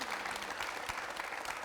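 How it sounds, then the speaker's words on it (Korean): A crowd at a Gwangsan-gu district civic forum broadcast by Gwangju MBC claps steadily, a dense continuous burst of applause filling the short moment. "다시 한번 박수와 환호"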